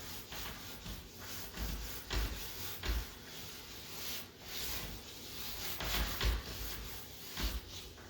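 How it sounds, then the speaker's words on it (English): Howard Restor-A-Finish is wiped by hand onto a scratched, stained wooden door, giving soft repeated rubbing strokes in an uneven rhythm. The sound is close but quiet, and no one talks. "it's gonna wipe some on the door down there"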